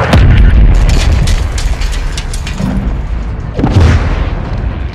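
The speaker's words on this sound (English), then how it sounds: "Incoming missile." Heavy missile blasts boom in a Call of Duty Modern Warfare 2 battle against the cartel, a loud deep impact at the start and another around the four-second mark, with rumbling battlefield noise rolling between them.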